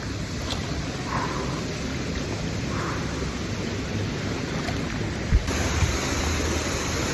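A waterfall inside a cave gorge in Dominica pours with a constant, loud broadband rush that echoes off the rock, without voices.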